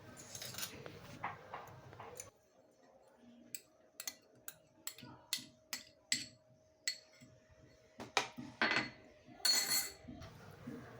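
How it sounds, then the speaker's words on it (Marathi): Wheat flour and curd being stirred together in a bowl with a spoon, producing a run of sharp, evenly spaced clinks against the rim, close and fairly quiet, with a faint background hum. "मी हे सर्व साहित्य पिठामध्येच मिक्स करून घेणार आहे."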